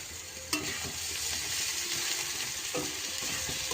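Ginger garlic paste frying in a pan after onions, giving a steady close sizzle with a couple of sharp clacks and scraping strokes as it is stirred.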